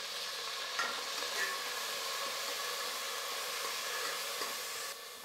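Cumin, kasuri methi, curry leaves and mint sauté in hot oil for tomato rice, giving a steady, even sizzle and hiss that holds close and level throughout, then drops away abruptly at the end.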